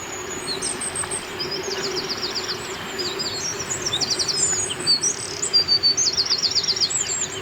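Loud outdoor birdsong in rural Scotland, with several birds chirping and trilling in quick repeated phrases that grow busier toward the end, layered over a steady low hum, with no talking.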